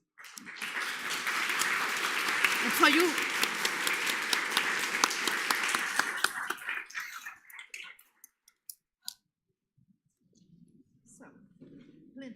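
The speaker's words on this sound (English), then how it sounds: "A round of applause for the panelists." Applause for panelists in a theatre at Badia Fiesolana during a 2023 conference, a full steady wash of clapping for about six seconds before fading to a few scattered claps, then quiet with a brief voice speaking.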